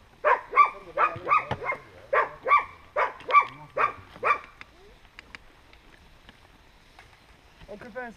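A dog barks repeatedly in a quick series of sharp, fairly close barks, then falls quiet as faint background noise and a voice follow.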